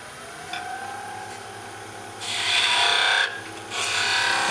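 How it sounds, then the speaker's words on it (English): A skew chisel cutting V grooves into spinning wood on a lathe, a steady rasping hiss under the motor hum that swells louder in two longer scraping passes near the end. "I'll make some V cuts with the skew."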